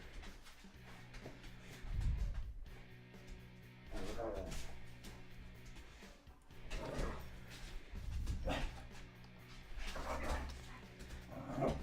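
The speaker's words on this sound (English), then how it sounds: "no one's on the chat complaining about the dogs" Dogs bark and whimper in short bursts, some loud and some softer whines, mixed in with ongoing talk.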